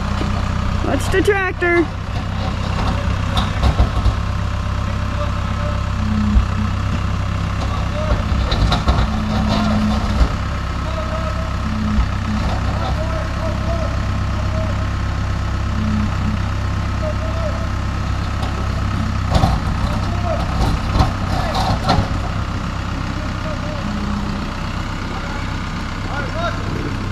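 A farm tractor engine idles with a steady low rumble while people talk and call out over it, along with scattered clanks and outdoor bustle.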